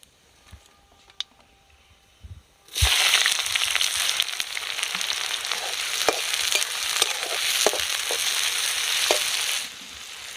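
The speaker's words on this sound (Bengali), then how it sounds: "দিয়ে পেঁয়াজটা একটু লাল লাল করে ভেজে দিতে হবে" Sliced onions dropped into hot oil over dried red chilli tempering, bursting into a loud, steady sizzle after a quiet start, with faint stirring clicks throughout before the frying eases near the end.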